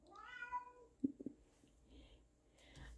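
A house cat gives a drawn-out rising meow, followed by a few soft thumps and shuffling sounds indoors, quiet overall.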